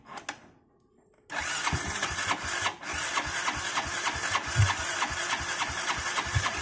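A Yamaha Jupiter Z motorcycle that is hard to start and makes a rattling engine noise is kick-started, catching after a brief pause and then running at a loud, close, rough idle.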